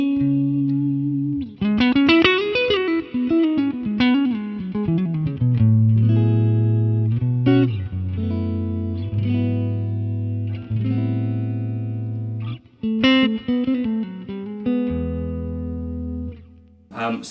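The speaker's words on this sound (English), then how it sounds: "So here is the sound of this amp right now into a load box." An electric guitar plays through a Two-Rock Traditional Clean amp into a load box, giving a warm, smooth clean tone: a melodic line of sustained notes and chords that ring out steadily, with no talking.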